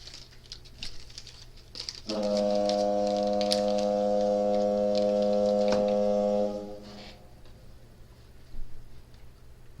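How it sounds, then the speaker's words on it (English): A foghorn-style horn opens a recovery group meeting, sounding one steady, loud, harmonic-rich blast of about four seconds, preceded and followed by faint room noise and light rustling. "Start the foghorn then."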